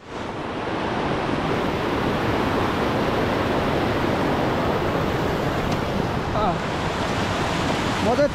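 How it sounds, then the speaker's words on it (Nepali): A swollen mountain stream rushes past during a river crossing, a loud, broad, continuous roar of fast water close to the microphone that holds steady throughout with no clear speech. "पानी त बढेछ त्यसले मलाई बगाउने खालको बढाएछ नि"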